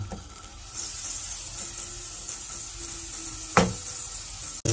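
Butter sizzles steadily in a heated pan as a cook starts Filipino pancit bihon canton, a close, even hiss with a faint clack near the end.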